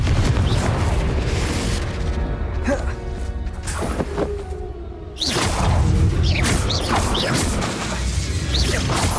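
The Confringo fire-blast spell in Hogwarts Legacy bursts as loud, dense booms and whooshing crashes, dipping briefly before a second heavy blast and rumbling debris, with voices mixed into the dense game sound.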